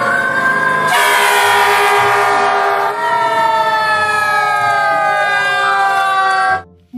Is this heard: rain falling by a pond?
no